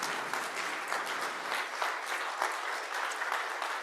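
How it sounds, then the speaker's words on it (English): A room full of people at a Sunday morning church worship service claps steadily, a dense, even burst of applause lasting several seconds with no voices over it. "So I want to give her a round of applause, even though she's not here."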